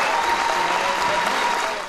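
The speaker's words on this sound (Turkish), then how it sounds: "milletvekilleri daha sonra tek tek anons edilince bir kez daha alkışlandılar" Applause for party MPs at a parliamentary group meeting, dense clapping from a crowd, continuous and fairly loud, tapering off slightly at the end.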